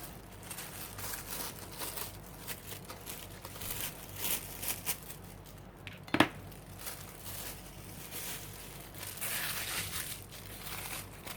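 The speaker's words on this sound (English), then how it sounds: "I'm going to cut a piece of the nylon bag" A nylon bag is cut and crinkled at close range, making steady crackling and rustling with a sharper snip partway through.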